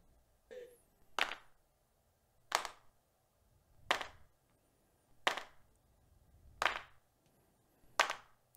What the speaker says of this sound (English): Gang claps.